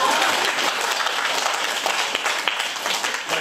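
Audience applause at a tenor's concert-talk event, a steady wall of many hands clapping that stays loud and even from start to finish.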